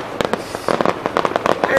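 Fourth of July fireworks in Nashville go off in a quick run of close, sharp bangs and crackling pops, with voices mixed in among the blasts.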